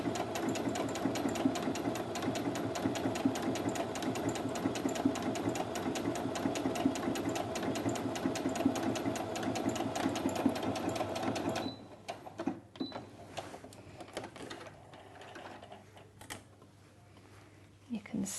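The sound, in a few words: Brother A16 sewing machine stitching fabric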